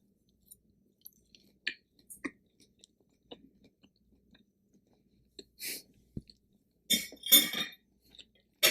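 Chewing on a Beyond Meat plant-based sausage, close up, with soft irregular mouth clicks and bites building to a few louder crunchy chews near the end, no talking.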